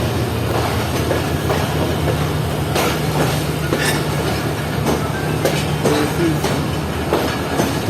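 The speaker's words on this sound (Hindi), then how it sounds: "तो इस वक्त ट्रेन प्लेटफॉर्म नंबर 1 पर लग रही है, जो कि मेरे लेफ़्ट साइड पर है।" Passenger train at a railway platform in Karachi, a continuous loud rumble with rhythmic clicking of wheels and occasional metallic squeals and clanks, close by with no talking.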